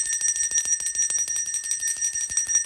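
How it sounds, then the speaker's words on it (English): A small hand bell rung to call spirits during a psychic reading, shaken in a fast continuous jingling tremolo, close and bright throughout without talk. "I'm gonna go ahead and ring my bell and call my spirit."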